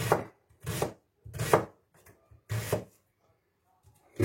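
A knife dicing an onion finely on a cutting board, giving five or six separate bursts of crisp, rasping chops with short gaps between them, close and clear.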